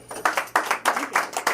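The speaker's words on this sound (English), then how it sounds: "Give her a big round of applause." Short burst of audience applause at a talk on emotional healing, a few loud rhythmic clusters of clapping close by with no voices over it.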